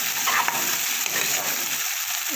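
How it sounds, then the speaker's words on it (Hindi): Green chillies sauté in a pan with a short, loud, steady sizzle and a few scraping stir noises, close up and without speech. "इनको हम थोड़ा सा सौटे कर देते हैं।"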